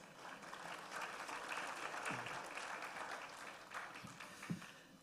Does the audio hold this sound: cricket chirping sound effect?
no